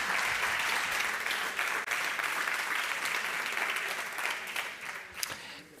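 An audience welcoming a speaker at a talk applauds steadily and loudly throughout, a dense wash of clapping with no pauses.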